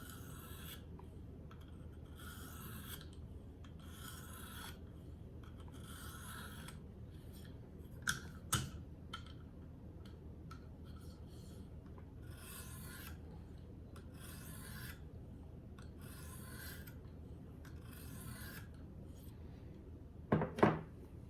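A knife edge draws across a 600-grit sharpening stone in light burr-removing strokes, giving evenly spaced soft rasping swipes in short groups, close and quiet, with a couple of small clicks and a clatter near the end.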